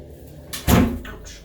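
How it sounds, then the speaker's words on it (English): A glass door of a deck-3 ocean view cabin aboard the cruise ship Celebrity Edge slides and bumps, a quick rattling swish followed by a sharp knock, close and brief. "And it's a glass door."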